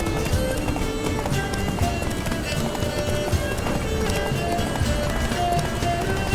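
Geralt's horse gallops in The Witcher video game, a rapid, unbroken drumming of hooves that stays loud and close throughout.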